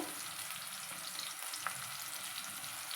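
Chopped green chillies and onion fry in a pan for tomato omelette curry, a steady, even sizzle with no talking.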